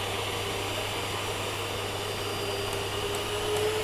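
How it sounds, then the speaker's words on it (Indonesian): A Well Cook hand mixer whips egg whites with a steady, continuous whirring motor drone that holds at an even level throughout, with no talking. "ini aku masih pakai hand mixer atau stand mixer dari Well Cook"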